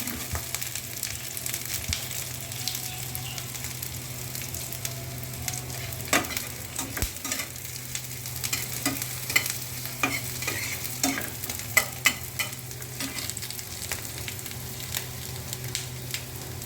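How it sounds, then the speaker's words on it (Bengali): Eggplant fries in a pan, a steady low sizzle with scattered clicks and scrapes of stirring over a constant background hum, fairly faint and without speech. "এখানে আমি বেগুন ভাজি করব"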